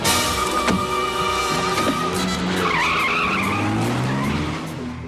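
A car skids with a long tire squeal and then speeds off in a 1987 horror film scene, loud and close, the screech sweeping in pitch as the engine pulls away and fades slightly.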